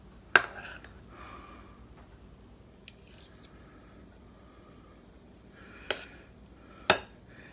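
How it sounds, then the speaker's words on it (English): Spoons clink and scrape while deviled egg filling is scooped from one spoon with another: a few sharp metallic taps spread apart over quiet, soft squishy scraping in between. "I'm going to use 1 spoon to scoop it from the other spoon"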